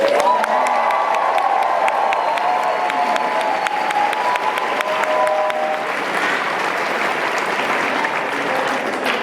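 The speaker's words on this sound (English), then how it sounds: "Can we get a big round of applause?" Large crowd at a Bernie Sanders campaign rally in Iowa City, Iowa, applauding and cheering: a dense, sustained wash of clapping with whoops and shouts, a few voices rising above it.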